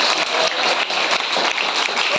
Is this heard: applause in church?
yes